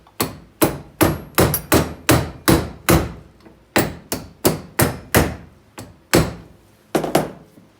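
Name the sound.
tapping brake pads into place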